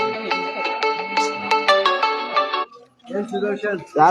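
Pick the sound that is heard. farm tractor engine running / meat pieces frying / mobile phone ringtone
mobile phone ringtone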